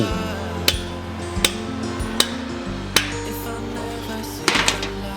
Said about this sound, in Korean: 망치를 사용해 20mm 외지 앙카를 박아주고